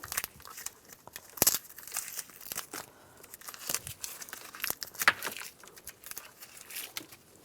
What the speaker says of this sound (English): Now we can take the tape off.